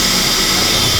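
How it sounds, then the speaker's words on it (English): A power drill bores through a sailboat hull to install supports, a loud, steady whining roar that holds without pause, close to the listener. "I am gonna drill through the hole to install these supports"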